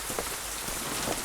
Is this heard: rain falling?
yes